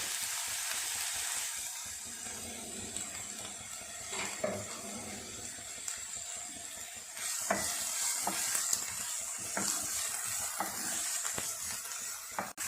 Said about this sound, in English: Now I'm going to add some onion, and we'll fry a little bit.